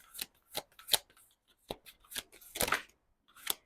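Tarot cards being shuffled and drawn during a reading, heard as a series of short, crisp riffling and snapping bursts spaced irregularly with quiet gaps between.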